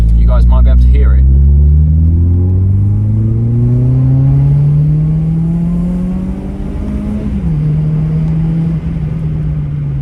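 Car engine accelerating hard on a back road, heard from inside the cabin with the windows partly open: a loud rising drone that climbs steadily through the gears with a shift near the end, and a brief voice at the start.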